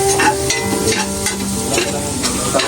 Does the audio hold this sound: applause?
no